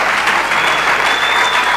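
Dense, steady clapping from a large audience at a leadership conference talk, continuous and fairly loud throughout with no break.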